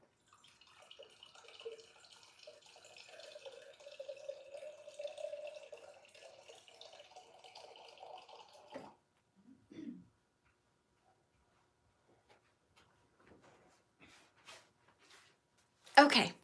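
A water tap runs steadily into a sink for several seconds while someone fetches drinking water, then shuts off, followed by a few faint clicks and a louder knock near the end.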